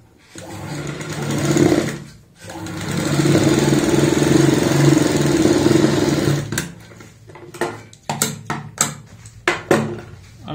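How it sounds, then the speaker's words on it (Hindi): A sewing machine stitching the lower hem of homemade capri pants whirs steadily up close for several seconds, then breaks into short stop-start bursts of stitching toward the end. "नीचे का पार्ट सिलाई लगाएंगे"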